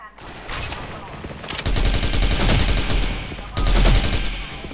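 Loud rapid bursts of gunfire from the X-Mas Neon Guitar gun in the shooter game Special Force, in two long sustained volleys after a short lead-in, with heavy low-end thump throughout.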